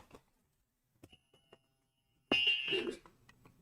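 A podcast's electronic buzzer or alarm sounds once, a loud, abrupt tone burst lasting about half a second after several faint knocks and clicks in an otherwise quiet room.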